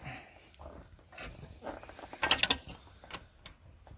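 A 17 mm wrench works on a part of a Yamaha YZ 250 dirt bike, giving faint metallic clicks and a brief louder ratcheting scrape partway through, with quiet workshop background around it.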